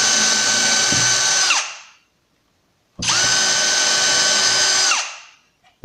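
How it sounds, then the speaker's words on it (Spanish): A power drill with a very fine bit bores pilot holes through a KREG cup-hinge jig, two loud whining bursts of about two seconds each, each spinning down, separated by a silent pause. "vamos a utilizar una broca muy finita, teniendo cuidado de no pasarnos"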